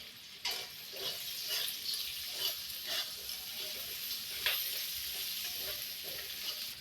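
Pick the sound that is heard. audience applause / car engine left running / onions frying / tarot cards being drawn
onions frying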